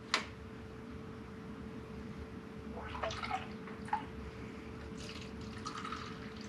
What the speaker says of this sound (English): you can kind of see the water bubbling out down there as we pour it in up here